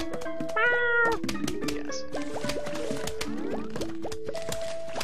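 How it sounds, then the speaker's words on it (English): Game-style cat meows from Plants vs Zombies repeat over plinky musical tones, with bright pitched meow calls early and steady electronic chatter throughout. "Okay, too many meows."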